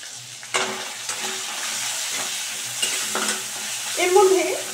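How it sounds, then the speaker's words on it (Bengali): Two onions frying in hot oil in a pan give a steady close sizzle, with a few utensil scrapes and knocks of stirring along the way and a brighter burst of crackle near the end. "পেঁয়াজগুলো অ্যাড করে দিয়ে এবার কিন্তু আমি একটু ভেজে নেব"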